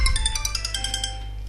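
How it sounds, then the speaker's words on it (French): A phone ringtone plays a bright repeating electronic melody, near and fairly loud, its pulsed notes fading out toward the end over a steady low hum, with no voices. "Le téléphone qui sonne."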